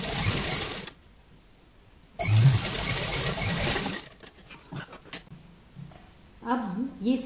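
A sewing machine stitches the side seam of a yoke kurta, running in a few loud, close, rapid whirring bursts separated by pauses, with a voice talking nearby.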